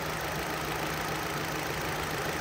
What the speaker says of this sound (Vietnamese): máy đang nổ đây nổ rất là nhẹ nhàng êm ái